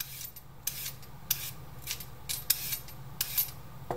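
Carrots being peeled with a peeler for Moroccan carrot salad, a run of close, crisp rasping strokes coming about every half second over a quiet background.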